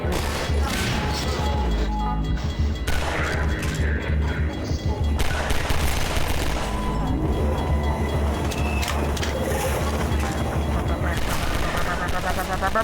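Dense video game gunfire, rapid overlapping shots and bursts with crashes, running steadily and loudly through a busy, continuous mix of game noise.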